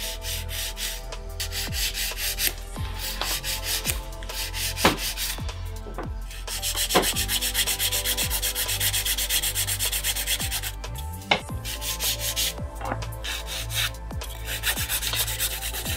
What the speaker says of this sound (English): When you do your filing routine, always use 180 grit file